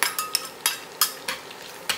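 Garlic being stirred in a pan for pork steak, with several distinct scraping stir strokes over a light sizzle, close and fairly loud, no voices.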